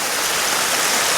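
A mountain stream near Grenoble flows in a loud, constant rush of water, close and unbroken, with no voices.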